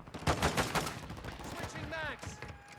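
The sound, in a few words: gunfire in the video game Warzone 2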